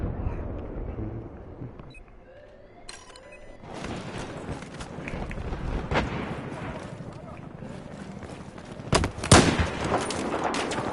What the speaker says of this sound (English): That is like one of the fastest semi-automatic pistols in this game, though.